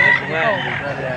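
A gamecock rooster crows loudly and close by, one sustained, wavering call filling the whole moment, with faint background voices.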